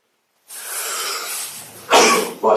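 Someone sneezes during a commission meeting, a breathy sneeze with a sharp explosive burst near the end, heard close and alone in the room.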